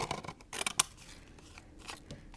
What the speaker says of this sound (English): These scissors are the ones that look like it's a torn edge.